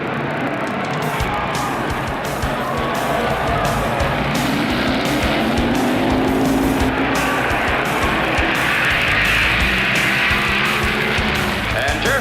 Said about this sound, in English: Semifinals, Jerry Stahl in the white Plymouth, 66 4-speed.